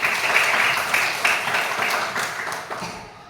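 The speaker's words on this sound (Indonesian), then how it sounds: "Tepuk tangan untuk kita semua." Classroom applause from schoolchildren greeting their teacher, a steady patter of many small hands clapping that fades slightly toward the end.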